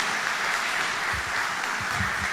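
Church congregation clapping together in praise, a steady, even patter of many hands heard at a moderate distance, with no voices over it.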